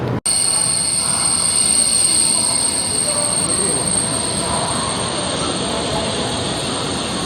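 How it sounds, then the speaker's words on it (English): A high-speed train passes along a rail line in China with a loud, sustained rushing roar. A thin high whine or squeal holds steady throughout the pass. "Another train."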